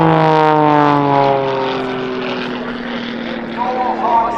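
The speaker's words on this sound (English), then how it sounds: "Power being applied to one of the jet engines, idle power to the other, and full rudder" Jet Pitts S2S aerobatic biplane with twin jet engines performing at an airshow, one engine powered up and the other at idle, a loud steady engine whine with gliding tonal pitch that falls, then rises again near the end, with a voice talking over it.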